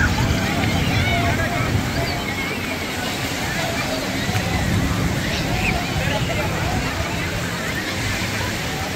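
Steady wind gusting across the open shore at Mandvi Beach in Kutch on an evening, a continuous broadband rush with faint wave wash beneath, loud and constant throughout, with a person talking over it.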